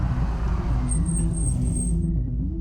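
A car engine rumbles steadily up close and eases down as the vehicle pulls over to the roadside, with a faint high whine above the low drone.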